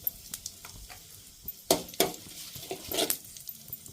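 Sliced onions fry and are stirred in a pan in a home kitchen, giving a low sizzle broken by a few sharp clanks of a spoon against the pan.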